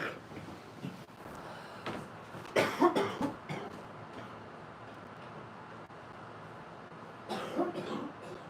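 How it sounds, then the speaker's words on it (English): A person coughs a few times in a cluster, fairly close, then coughs again briefly after a quiet stretch with faint background noise. "See, I told you I got the cough."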